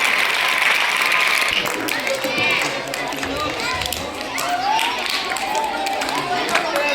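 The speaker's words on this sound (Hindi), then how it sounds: "बजे बजे ताली बजे" Audience clapping at a retirement farewell for a teacher at a middle school in Fatuha, a steady patter of applause throughout with voices and crowd chatter mixed in.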